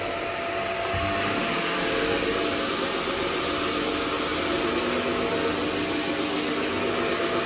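Vacuum cleaner running over carpet during low-moisture carpet cleaning, a loud steady whooshing motor drone that holds evenly throughout with no talking.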